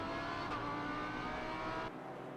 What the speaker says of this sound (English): Great sounding V10 engine in the back of this.